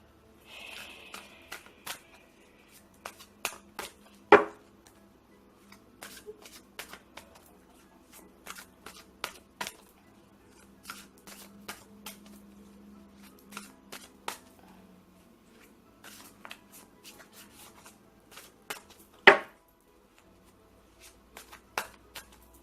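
Cards are riffled and shuffled in quick crisp bursts, with two sharper snaps standing out, close and otherwise quiet.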